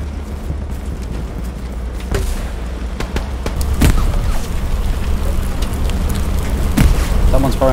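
Two heavy grenade blasts in the Hell Let Loose war game go off a few seconds apart over a constant battlefield rumble, with some voices speaking in the background.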